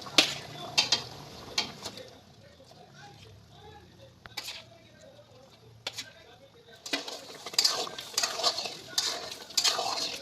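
Grated coconut cooked in melted sugar is stirred in a pan over medium flame, giving scraping, clattering strokes in uneven bursts that grow busier near the end, with talk heard in between.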